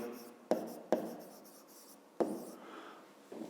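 Pen writing on paper while a math exercise is solved, with three sharp taps as the pen touches down and soft scratching strokes between them, close and quiet.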